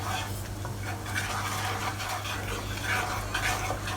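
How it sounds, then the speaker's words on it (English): Chicken wings are stirred in a pan with spicy volcano hot sauce and brown sugar. A utensil scrapes and swirls through the sticky sauce continuously, with a low background hum underneath. "Keep stirring them."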